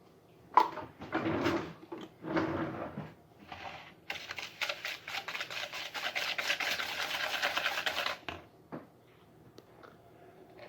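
Six egg yolks and a quarter cup of sugar get whisked in a bowl: scattered rubbing strokes first, then a sustained stretch of fast, steady scraping that stops abruptly, all close and moderately quiet.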